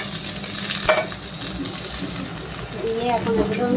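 Onion and chillies frying in hot oil with cumin in a wok for a homestyle cauliflower-potato curry, a continuous sizzle with stirring clatter while someone talks over it.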